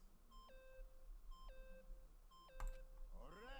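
Electronic beeping from the video game Danganronpa: Trigger Happy Havoc, three repeated stepped tone sequences at a steady rhythm, followed by a sharp hit and warbling synthetic sounds over low background music.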